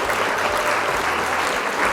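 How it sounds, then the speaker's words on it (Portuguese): Audience applause during a fashion croqui drawing lesson, brisk continuous clapping from a small group, close and loud for the whole moment. "Palmas para ela!"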